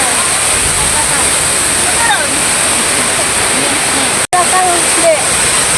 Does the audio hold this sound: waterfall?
yes